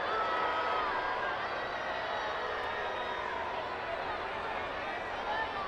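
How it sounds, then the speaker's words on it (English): Crowd at an Orlando Pride vs. Western New York Flash women's soccer match, a sustained broad roar of voices and boos filling the stadium steadily, loud and continuous, with a commentator's voice over it. "the chorus of boos rained down"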